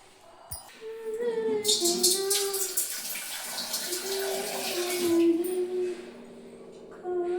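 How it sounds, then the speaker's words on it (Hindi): Running tap water while dishes are washed in a home kitchen, a steady close splashing stream that lasts several seconds, with a voice speaking over it. "बर्तन मांज लेती हूँ साथ के साथ।"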